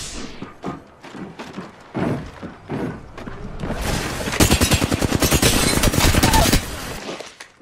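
Rapid automatic gunfire in the Apex Legends shooter game comes in a loud, sustained burst of closely spaced shots after a few scattered single shots and thuds.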